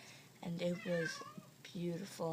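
Indoor house cat meowing for attention, several drawn-out close meows that overlap and alternate with someone talking.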